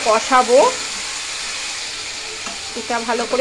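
Cumin, bay leaf and dried chili sizzle in hot oil as ingredients are poured in, a steady frying hiss running throughout with a person speaking at the start and end.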